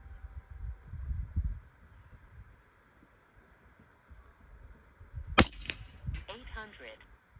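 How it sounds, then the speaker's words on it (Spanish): An FX Impact air rifle fires a single sharp, fairly loud crack outdoors at a 50-yard range, followed by a brief ringing tail over faint wind and background hiss. "Muy bien, amigos, vamos a grabar estos tiros"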